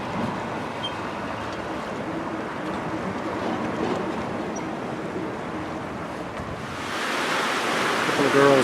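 A river rushes beneath a footbridge in Durango as a steady, dense wash of water noise that swells a little louder toward the end, with no talk.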